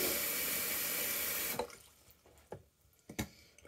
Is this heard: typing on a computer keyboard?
no